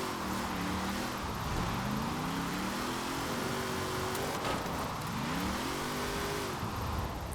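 Bugatti engine in the Forza Horizon 4 racing game, revving and shifting up through the gears with rising and falling tones, steady and loud throughout with no voices.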